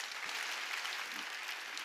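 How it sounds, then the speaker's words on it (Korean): Faint clapping from a church congregation during a sermon, a short soft burst of applause heard at a distance. "빨리 박수 치라고요"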